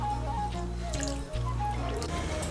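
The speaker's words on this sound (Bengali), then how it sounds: "চিড়েটাকে ভালো করে 2-3 বার জল দিয়ে ধুয়ে নিতে হবে।" Water splashes and drips as flattened rice (chira) is rinsed in a bowl for a vegetable chirer pulao, faint trickling over a steady low hum.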